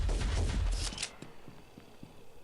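Rocket explosions in Pixel Gun 3D: a heavy rumbling cluster of booms that cuts off sharply, followed by a few faint scattered thuds and clicks in near quiet.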